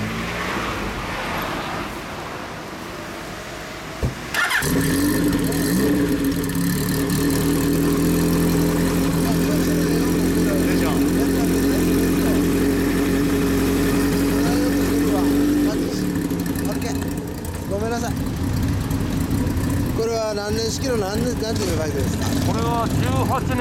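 A 2018 Yamaha Tracer 900 GT motorcycle engine idles loudly and steadily up close for a long stretch, with a brief rev change partway through and someone talking over it.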